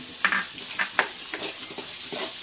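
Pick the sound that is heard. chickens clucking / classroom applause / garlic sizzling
garlic sizzling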